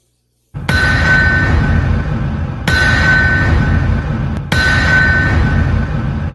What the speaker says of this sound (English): That is the sound of your mighty anvil